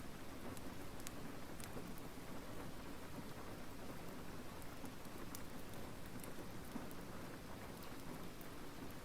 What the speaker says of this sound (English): The rain is probably fake too.